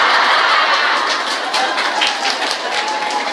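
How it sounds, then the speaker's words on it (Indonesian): An indoor audience at a religious talk applauds, dense steady clapping from many hands that stays loud and fades slightly toward the end. "Udah jangan tepuk tangan"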